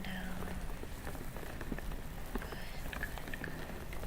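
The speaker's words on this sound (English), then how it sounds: "It does sound like rain on a car window." Soft rain patters in scattered, irregular taps against a car window, steady and quiet, with a faint hum underneath.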